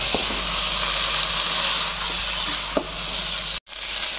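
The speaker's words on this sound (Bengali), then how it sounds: "নারকেল বাটা দেওয়ার পর আমি আর ঢাকা দেবো না। এবারে কিন্তু অনবরত নেড়ে যেতে হবে।" Snake gourd cooked with coconut paste fries in an uncovered pan, stirred constantly, giving a steady, close sizzle with occasional scraping clicks of the spoon that stops abruptly near the end.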